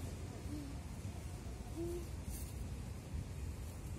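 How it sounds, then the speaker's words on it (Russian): An owl hoots twice in an autumn park, short soft calls spaced about a second apart, faint and distant beneath steady outdoor background noise. "Сова."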